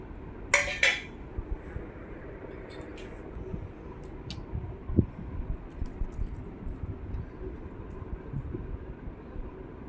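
Spoon scraping and clinking in a pan while cumin, turmeric, salt and curry leaves are mixed together for mango-pickle tamarind rice, with sharp metallic clinks early on over a steady low background rumble.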